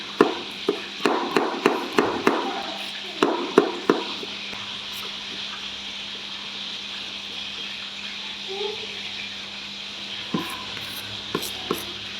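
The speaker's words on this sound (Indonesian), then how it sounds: "ini aku mau geprek bawang putih teman-teman" Garlic cloves smashed with a knife or pestle in a home kitchen, a quick run of sharp, close thuds in two bursts, followed by a few sparser taps and faint background noise.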